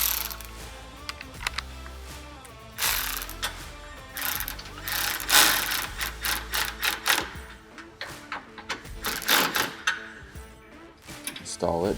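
A ratchet wrench runs bolts up snug while a SuperATV aluminum door is installed on a Polaris RZR Pro R 4, close clicking bursts in uneven spurts with someone talking between them.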